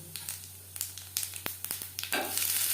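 Whole cumin seeds crackling in hot mustard oil after dried red chillies, close scattered pops and crisp sizzles over a steady low hum, rising into a denser sizzle at the end, with no voices.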